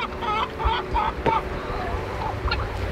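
Chickens cluck in a pen shared with guinea hogs, with several short clucks and fowl calls scattered over a few seconds against a low farmyard background.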